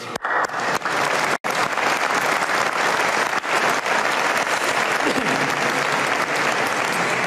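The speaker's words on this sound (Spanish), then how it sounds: "Vamos a aplaudirle." Members at the Real Madrid club assembly applaud in a large hall, a full, continuous roar of clapping that holds steady after a brief break near the start, with crowd murmur beneath.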